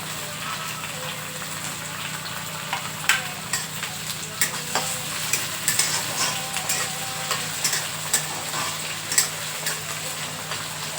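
Tomatoes and green chillies frying in a kadhai on a gas stove, a continuous sizzle with repeated sharp scrapes and taps of a spoon stirring, close and alone without talk.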